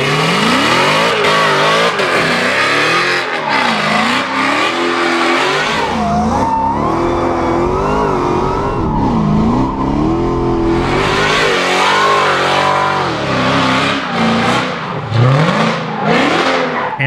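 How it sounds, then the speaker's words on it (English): A Dodge Charger Hellcat with a custom exhaust roars and revs hard through a donut, engine pitch rising and falling with tire squeal, loud and close throughout. "And here's another quick donut."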